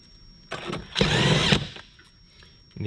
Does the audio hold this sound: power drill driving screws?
yes